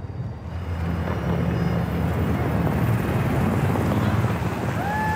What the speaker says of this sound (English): I think that's the second pass of this helicopter making its way over